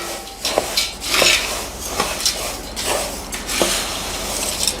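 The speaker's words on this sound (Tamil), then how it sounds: "இப்போது நல்லா கலந்து விட்டுக்கோங்க." A spoon stirs a homemade snack mixture with asafoetida in a pan, giving repeated close scraping and clinking strokes in an uneven rhythm, with light sizzling between them.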